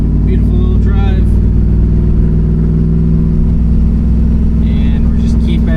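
A 1992 Chevy C1500 truck with an LS1 swap and T56 transmission cruises gently at low rpm, a loud steady engine drone and road rumble heard from inside the cab with brief speech over it.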